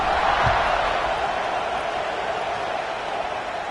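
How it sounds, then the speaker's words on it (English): A stadium crowd buzzes after a touchdown in College Football 25, a steady, fairly loud wash of distant cheering and murmur with one brief thump near the start. "this crowd is buzzing after that last score"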